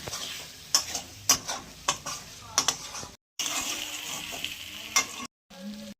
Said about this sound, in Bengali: চিংড়ি মাছগুলো দিয়েও একটু কষাবো